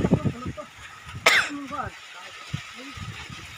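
A single sharp cough breaks out midway through casual outdoor chatter on a mountain peak hike, loud and abrupt, with people talking before and after it.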